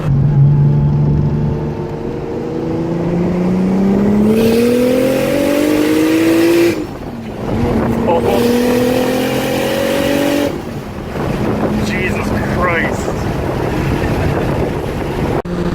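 A turbocharged Lexus IS300 with a 2JZ-GTE engine revs hard through rising gears, whining upward with brief drops between shifts, loud and close inside the moving car.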